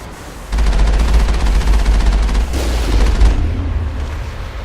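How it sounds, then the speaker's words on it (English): Heavy gun in the video game Mass Effect fires in a sustained, booming barrage that starts abruptly after a brief lull and rumbles loudly and continuously for several seconds, with a deep low-end roar. "That's a heavy gun."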